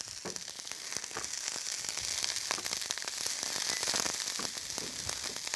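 Shredded cabbage fries in a pan with a little oil for okonomiyaki, giving a loud, steady sizzle with constant fine crackling and spitting throughout.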